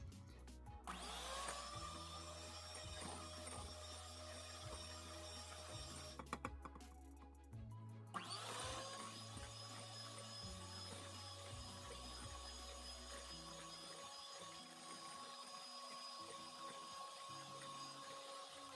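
Electric mixer whipping egg whites with sugar into meringue, a steady whirring drone that stops briefly, with a clatter in the pause, then resumes and runs on without speech.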